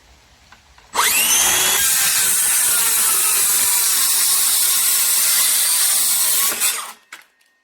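An 18-volt Makita cordless circular saw cuts through a 2x4, spinning up sharply and holding a loud, steady whine for about six seconds before winding down and stopping.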